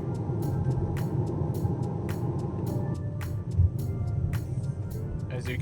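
Turbo-swapped 2017 Volkswagen Passat GLI with a map 6 tune, larger 0.52 A/R turbo and DQ250 DSG gearbox driving, a steady low engine drone with sharp periodic clicks and ticks throughout.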